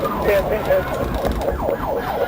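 Wailing siren of a marked police patrol car during a traffic stop attempt on a roadway, rising and falling sweeps repeating steadily, loud and close over road noise.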